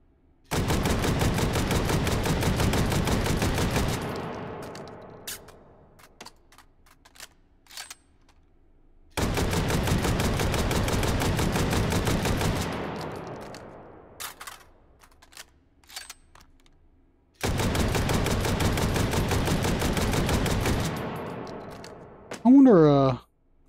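Rapid gunfire in the VR game Hot Dogs, Horseshoes & Hand Grenades: three loud sustained automatic bursts separated by short silences, each trailing off with scattered clicks and echoes.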